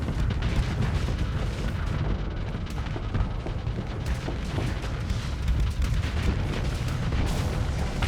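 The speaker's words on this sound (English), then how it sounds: "Yes, that is a swarm of missiles." A swarm of missiles bursts in the space combat game Starsector, a dense, continuous roar of overlapping booms and rumbling detonations, loud and close throughout with no voices.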